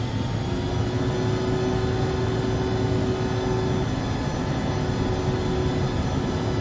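Embraer E145 jet engines in X-Plane 11 run steadily at takeoff power, a dense, constant roar with a faint tonal whine, unbroken and moderately loud throughout, with no voices.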